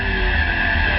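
BMW M3 E92 sliding sideways in a power slide in Gran Turismo 5 Prologue, with a steady squealing tire scrub over a continuous engine roar, loud and close, no pauses.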